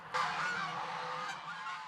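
Geese on a farm honking loudly and close, a dense overlapping burst of nasal calls that runs for about two seconds.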